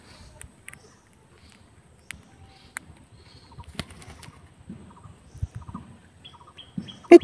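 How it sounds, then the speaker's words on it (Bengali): Pet birds give sparse, soft chirps and coos with a few light wing flutters, quiet and scattered, ending with a sharper, louder call. "এই যে দেখুন পাখি"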